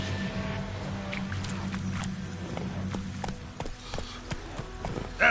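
Hooves of Roach, a horse in the video game The Witcher 3: Wild Hunt, clip-clopping in a steady walking rhythm, moderately close, under a low droning background that fades after a few seconds.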